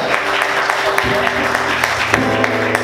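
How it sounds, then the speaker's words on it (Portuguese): A church congregation claps together during a morning worship service, a steady, close wash of hand claps with a voice carrying over it. "Aplauda o Senhor mais forte."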